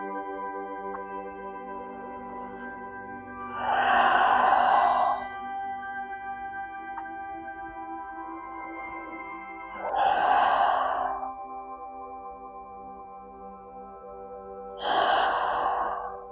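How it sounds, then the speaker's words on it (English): Slow, deep breaths during a bedtime yoga back stretch, three long audible exhales spaced several seconds apart, close and soft over a faint steady tone. "Deep breaths"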